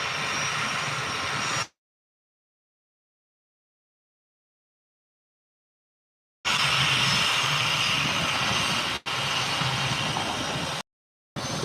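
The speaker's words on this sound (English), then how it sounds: "Back to a nice little noisy 737." Boeing 737-300 jet departing for Parma from Leeds Bradford Airport during a storm, a loud broadband engine roar heard in two stretches separated by a long silent gap, with brief dropouts.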